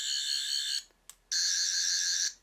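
A toy Doctor Who sonic screwdriver emits a shrill, warbling electronic buzz in two bursts split by a short gap and a brief blip, loud and close.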